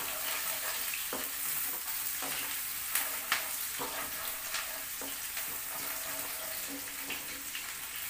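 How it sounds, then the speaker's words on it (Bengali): Chopped onion fries in a pan as the base for a gravy, giving a close, steady sizzle broken by a few sharp clicks of stirring, with no talking. "পেঁয়াজটা একটু ভাজা ভাজা হয়ে আসবে"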